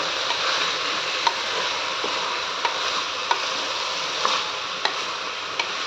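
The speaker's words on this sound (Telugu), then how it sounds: "ఈ బియ్యం కూడా కొంచెం ఫ్రై చేసుకోవాలండి, అప్పుడు బాగుంటుంది టేస్ట్." Rice for veg masala rice is fried in a pan with a continuous soft sizzle, broken by light, regular scrapes and taps of a spatula as it is stirred, close and unaccompanied by voices.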